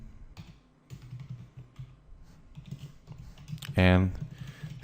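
Typing on a computer keyboard, a run of light clicking keystrokes, scattered and close, with one brief loud noise near the end.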